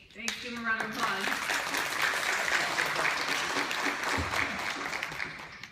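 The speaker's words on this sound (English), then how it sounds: "Give him a round of applause." An audience at a youth leadership panel summit breaks into applause, a steady, full wash of many hands clapping that holds at an even level, with a voice briefly heard at the start.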